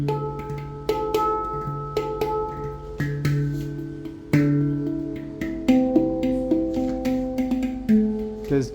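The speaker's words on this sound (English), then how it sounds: "So I bought a cheap handpan from China." A cheap handpan bought from Aliexpress played one-handed, bright ringing metallic notes struck one after another at an unhurried pace, each tone sustaining and decaying before the next, close and alone.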